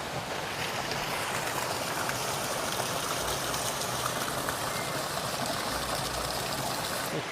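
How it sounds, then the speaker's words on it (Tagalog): A mountain river flows in a steady, broadband rush of water close by, continuous and fairly loud throughout with no voices over it, near a trail up San Cristobal mountain. "Meron pa rin ditong ilog."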